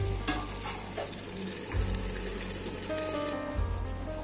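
Fish pieces for Andhra-style regandi chepala pulusu sizzle and fry steadily in a pan, a close continuous crackle with a few stirring scrapes and clinks, no talk.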